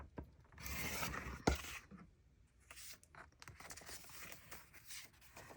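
Paper being trimmed while setting up a creative journal page with a waterfall Dutch door and pockets, heard as close, soft rasping and rubbing cuts, with a sharper snap midway and lighter scraping afterward, no talking.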